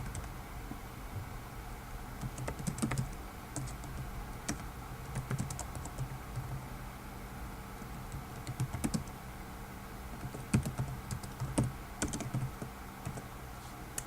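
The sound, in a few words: typing on a computer keyboard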